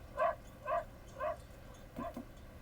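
A cartoon dog in the anime Cowboy Bebop barks four times in a steady, evenly spaced series, fairly close and clear, with the last two barks quicker and softer.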